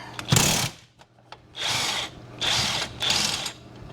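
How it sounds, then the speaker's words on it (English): Power tool spinning a 3/4 inch socket to back out a bolt on a 1978 Silver Anniversary Corvette rear clip, four close, loud whirring bursts of about half a second to a second each, separated by brief pauses. "Let's get a socket on that. take that bolt out."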